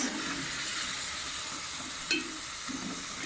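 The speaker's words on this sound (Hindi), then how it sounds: "इस तरह रख देंगे और अच्छे तरीके से कर देंगे मिक्स" Chicken bhuna masala sizzles steadily in a pan while it is stirred, with soft scraping strokes and a single sharp clink partway through, heard close with no voices.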